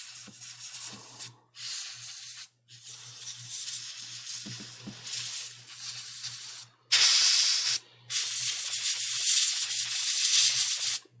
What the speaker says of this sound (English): get a little bit of compressed air